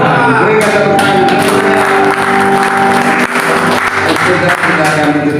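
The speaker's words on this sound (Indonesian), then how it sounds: "Berikan tepuk tangan" Loud applause from a congregation at a church service held in an apartment in Jakarta, dense clapping with a few shouts and cheers mixed in, steady throughout.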